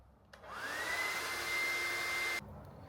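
A hair dryer fitted with a diffuser switches on with a rising whine, blows a steady loud airy roar with a high tonal hum for about two seconds while drying curly hair, then cuts off abruptly.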